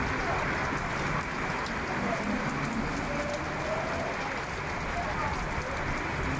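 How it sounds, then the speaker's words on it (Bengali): Heavy rain pours on a Dhaka street in a constant, dense hiss, loud and close, unbroken for the whole stretch. "অনেক অনেক বৃষ্টি।"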